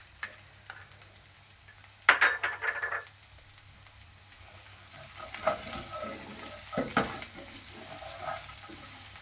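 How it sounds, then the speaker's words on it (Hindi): Chopped onion, green chili and ginger fry in a pan for an aloo paratha filling, a soft steady sizzle broken by a few clattering stirs of a spoon, quiet and close with no talking. "हम इसको उतनी देर फ्राई करेंगे जितनी देर इसकी अच्छी तरह खुशबू नहीं आती।"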